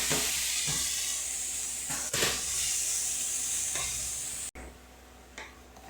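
Leafy greens hit garlic fried reddish in hot oil, giving a loud steady sizzle with occasional scraping stirs, before the hiss suddenly drops and quiets near the end.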